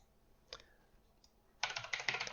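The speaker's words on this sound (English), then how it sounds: "Going to do a lot of typing in this video." Keys tapped on a computer keyboard during a coding session: a single short click, then after a pause a dense burst of rapid typing, close and fairly quiet.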